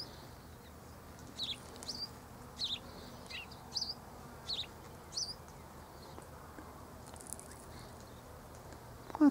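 Small yellow silvereyes feeding on plum blossom nectar near a banana tree give a handful of short, high chirps spaced roughly a second apart, faint and moderately distant over a soft outdoor hiss.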